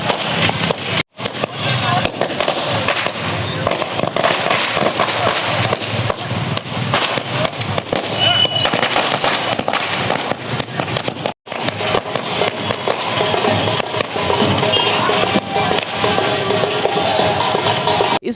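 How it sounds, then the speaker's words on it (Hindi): Fireworks set off by Congress party workers celebrating in Neemuch, India, a dense continuous crackle of firecrackers with sharp pops and bangs, loud and close, running almost without pause. "नीमच के कांग्रेसियों ने आतिशबाजी कर जश्न मनाया"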